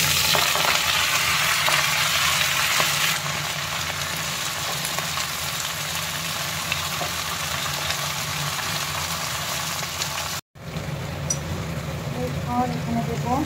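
Malabar spinach stems frying with browned coconut in a pan make a continuous sizzle with stirring scrapes, briefly cutting out before the sizzle resumes.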